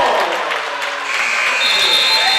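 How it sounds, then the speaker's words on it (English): A buzzer sounds amid a noisy crowd at an indoor basketball game, with cheering and a voice over the steady tone. "Right before the buzzer sounds."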